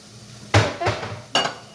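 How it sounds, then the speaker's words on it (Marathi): A metal cooking pot clanks down onto a stove, followed by a softer knock and then another sharp clatter, close by in a quiet kitchen. "मी हा टोप ठेवत आहे"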